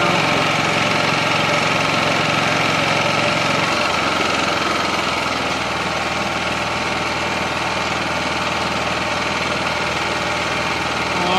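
A Honda EU5000is/EM5000is propane-converted inverter generator runs under a 1.5 kW load, a loud, steady engine drone with constant mechanical hum and no pauses.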